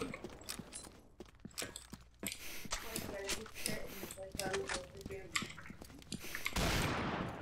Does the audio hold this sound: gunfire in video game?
yes